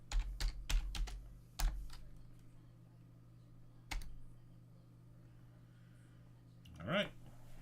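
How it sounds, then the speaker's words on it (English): Several quick keystrokes on a computer keyboard as an npm install command is typed, clustered at the start with a lone press later, close and fairly clear over a low background hum. "let's see what happens if I just follow the instruction and type npm I"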